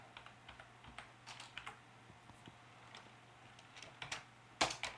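Keys clatter on a computer keyboard while a Python print statement is typed, a steady run of light close taps with a few louder strokes near the end, no talking.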